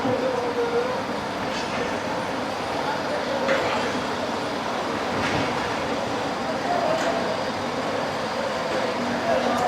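Pak Business Express train moving out of Rohri Junction, a steady rumbling roar of rolling stock with faint rail clatter throughout, recorded from on board, with no clear voices.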